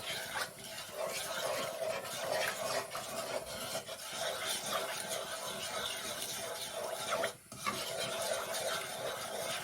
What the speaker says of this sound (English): Now I'm going to put the flame on and mix everything together.